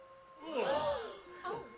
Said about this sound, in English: let me get the gasp here